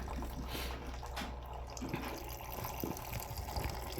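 Melted snow water flows and overflows outdoors with a continuous watery trickle and gush, fairly close, over a low rumbling background.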